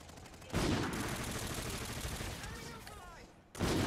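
A gun in a video game fires in two loud, dense bursts of rapid shots, with a rumbling, noisy stretch of game sound between them.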